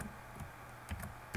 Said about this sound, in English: Watch my typing here.